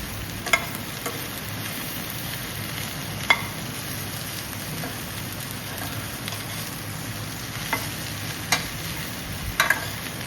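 Desi okra (bhindi) being stirred as it fries in a pan for a home-style sabzi: a steady soft sizzle, with a few sharp clicks and scrapes from the spoon scattered through, and no talking.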